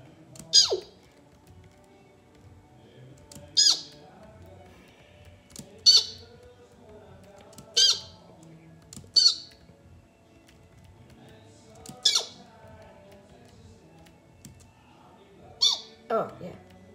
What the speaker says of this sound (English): See, that's how a bird rages on Roblox, because birds do that.